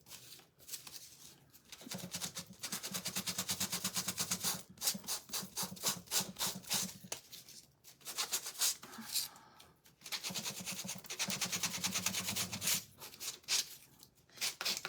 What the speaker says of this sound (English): I might have to get a new piece of sandpaper here.